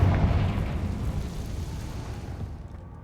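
A Confringo fire spell explosion in Hogwarts Legacy, a single booming blast at the start that rolls into a long rumbling tail and fades over about three seconds.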